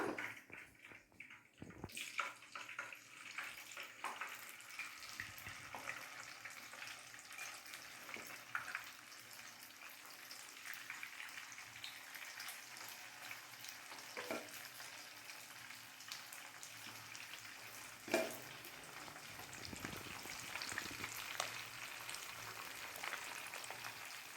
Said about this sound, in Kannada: ಎಲ್ಲಾನು ಇದೇ ರೀತಿ ಡೀಪ್ ಫ್ರೈ ಮಾಡಿ ಸಪ್ರೇಟ್ ಮಾಡಿ ಎತ್ತಿಟ್ಕೊಬಿಡೋಣ